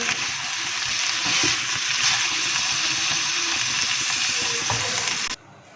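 Moringa chicken curry is stirred in a pan, giving a loud continuous sizzle and wet bubbling with scraping and stirring noises that stop abruptly near the end.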